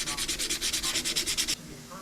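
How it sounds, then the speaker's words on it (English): Sandpaper, 180 grit, rubs back and forth along the top edge of a plastic dash bezel from a 1987 Jeep Wrangler, about a dozen quick, even rasping strokes, then stops. "And then I'm going to sand the top edge of the bezel."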